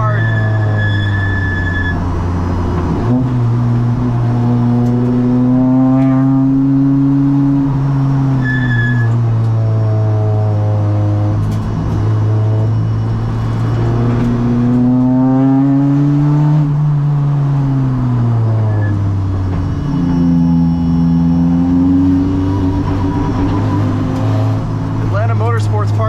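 A Honda Civic Si FE1 race car on Bridgestone Potenza RE-71RS tires laps a technical motorsports track, its engine droning loud and close, rising and falling through shifts, with a voice talking over it.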